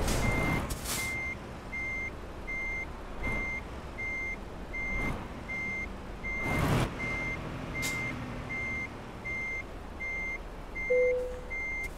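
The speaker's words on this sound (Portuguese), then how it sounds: "Vou dar uma ré aqui." A DAF XF truck in Euro Truck Simulator 2 reverses with evenly spaced electronic backup beeps over a low engine rumble, with occasional hissing air brake bursts and no talking.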